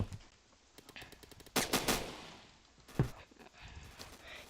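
In the Phantom Forces video game, a Remington shotgun loaded with bird shot fires two sharp, booming blasts about a second apart, with faint game clatter between them.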